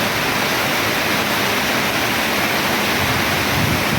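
Heavy rain pours at night, a dense, constant roar of falling water that stays loud and unbroken throughout, with no voices.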